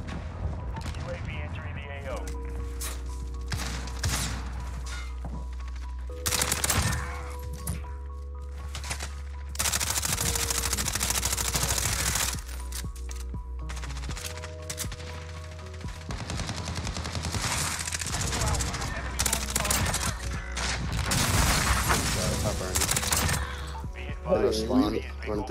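Modern Warfare Search and Destroy match with an MP5 and a grenade: bursts of rapid gunfire and sharp blasts in clusters across the stretch, loud and close, with a player talking over parts of it.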